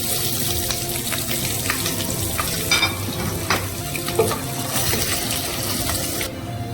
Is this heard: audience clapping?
no